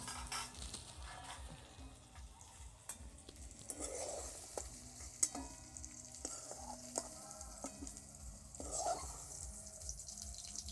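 Vegetables for a vegetarian dal frying in oil in a pan, then stirred and lifted out. A steady sizzle runs throughout, with sharp utensil clanks against the pan scattered through it.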